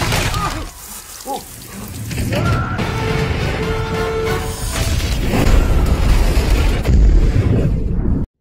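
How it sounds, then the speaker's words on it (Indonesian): A big action-film explosion at a collapsing floating house in a Jackie Chan movie, loud rumbling blast with crashing debris and a sustained roar that swells toward the end. "terjadi sebuah ledakan"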